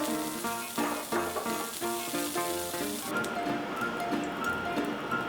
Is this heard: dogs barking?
no